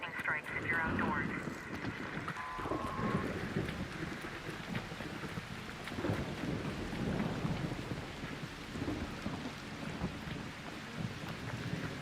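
Electromagnetic storm raging in ARC Raiders, with rumbling thunder and steady rain under a continuous wind-like roar, loud and enveloping, with a voice speaking over it.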